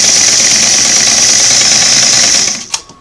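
A Singer Model 513 sewing machine runs with a loose, wobbling hand wheel, giving a loud steady whirring hum that winds down near the end, followed by a brief knock as it stops.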